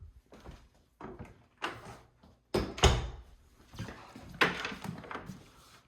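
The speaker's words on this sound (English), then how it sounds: "We need to close these doors" Doors in a house basement are handled and pushed shut in a series of separate knocks and thuds. The bumps are irregular and close, with one louder bang near the middle and quiet gaps between them.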